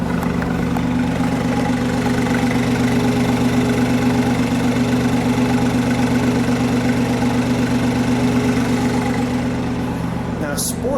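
A 2019 BMW i8 Roadster in sport mode hums with a steady, loud low engine drone and even exhaust thrum, holding constant without revving throughout.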